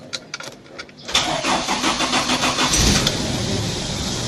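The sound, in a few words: car engine starting after jump-starting a weak battery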